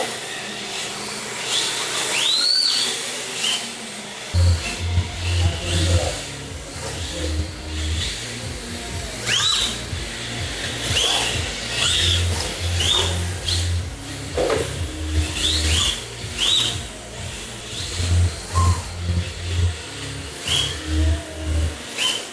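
An RC drift car races around a track. Its small motor whines and revs in repeated bursts, rising and falling as the car drifts, and the sound goes on for over twenty seconds.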